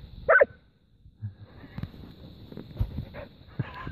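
A dog digging in dirt gives one loud, close bark near the start, followed by quieter scraping and rustling, with people talking faintly in the background.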